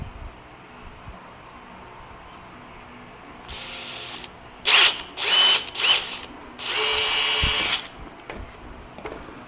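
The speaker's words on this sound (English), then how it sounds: "Of course, drilling through plastic" Close by, a power drill bores a pilot hole through the plastic grille of a 2024 Toyota Tacoma, a few short whirring bursts followed by one longer sustained run, with no talking.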